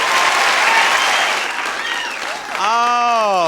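Daytime game show studio audience clapping loudly for the backstage crew, a dense burst of applause and cheering that fades slightly before a voice starts speaking over the tail end.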